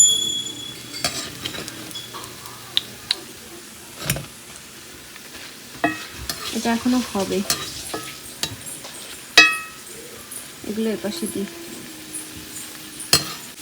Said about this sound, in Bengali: আর আস্তে আস্তে বড়া ভাজছি যাতে চাল কুমড়োটা ভিতর থেকে ভালো হয়।